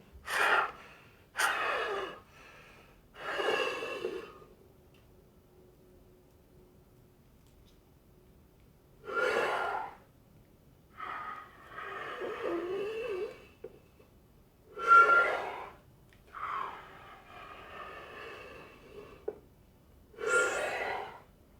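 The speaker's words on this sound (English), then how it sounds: "Again, I inhale. I blow it open." Breathing exercise with repeated sharp inhales and forceful exhales, about seven distinct breath bursts spaced by pauses, close and clear with no talking.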